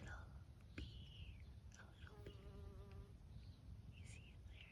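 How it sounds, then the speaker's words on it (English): A bee buzzes faintly near lavender in a summer garden, audible only in brief moments under soft whispered narration and quiet outdoor ambience. "A bee on my lavender plant"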